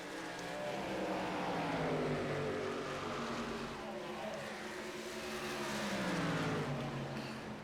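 Race trucks at Darlington Raceway roar past in a loud, continuous engine drone, with several overlapping engines and rising and falling pitch sweeps as they pass.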